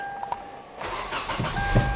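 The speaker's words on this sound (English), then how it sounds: "As you can hear, the engine is running." A manual-transmission car engine cranks briefly and then catches, settling into a steady running rumble up close, with no talking.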